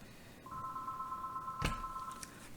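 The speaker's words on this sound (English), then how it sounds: "The phone never rings until you start soaping." A phone rings once in a soap-making workshop, a steady electronic tone lasting under two seconds, with a sharp clunk partway through and quiet room noise around it.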